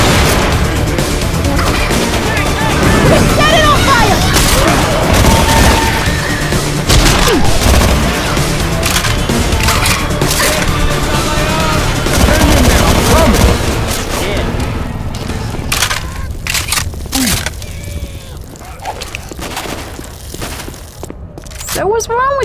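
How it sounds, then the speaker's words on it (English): Rapid gunfire and booming blasts fill a Left 4 Dead 2 zombie fight in a custom campaign, loud and continuous, with voices talking over the chaos. "Shoot that zombie in the back!"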